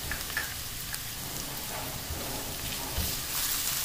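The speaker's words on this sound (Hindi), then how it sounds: "हल्का सा इसे हमने फ्राई कर लेना है" Garlic and ginger frying lightly in a pan, a close, steady crackling sizzle with dense fine spatter and occasional soft stirring scrapes, no one talking.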